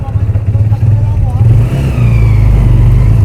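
A motorized tricycle engine in the Philippines heard while riding at night, a loud, close, continuous mid-pitched drone that rises and settles as it revs, with voices talking over it.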